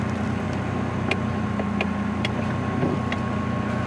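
A 1983 Ferrari 512 Berlinetta Boxer BBi flat-twelve runs steadily from inside the cabin, a continuous droning hum with faint ticking clicks. No one speaks over it.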